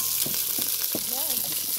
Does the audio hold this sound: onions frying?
yes